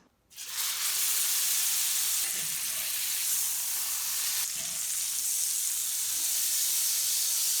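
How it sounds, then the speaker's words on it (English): A salted ribeye steak sizzles in butter in an iron skillet over medium heat, a loud, steady frying hiss that rises right away and holds without break. "So I have a ribeye steak, only seasoned with salt, some butter in an iron skillet on medium heat"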